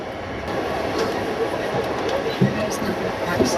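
A passenger train rolls along the rail line to Kashgar in China, heard from inside a carriage as a steady rumbling drone with occasional soft clacks and knocks, moderately loud.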